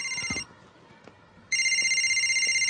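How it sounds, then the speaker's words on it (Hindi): A telephone rings loud and close in two bursts of an electronic bell-like tone, a short one at the start and a longer one after about a second of quiet, with faint background noise between. "उठा ले बेटा, तेरी मम्मी का ही फोन होगा."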